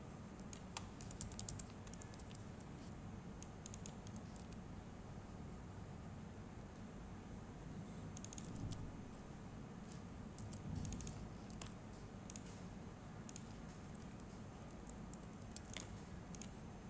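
Keystrokes on a computer keyboard while a web server config file is being written, a quiet continuous patter of clicks with a few louder taps, close up over low background hum.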